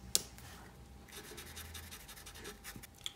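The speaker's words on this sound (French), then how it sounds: "Je vais colorier en couleur kaki." A khaki marker scratches and rubs softly across paper while coloring in a drawing of a Thanos emoji, a faint, close and continuous scribbling with a few light taps.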